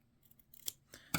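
Scissors snip the corners of a sewn fabric microwavable popcorn bag, giving a few quick, close cuts with the sharpest snip at the end, alone in a quiet room.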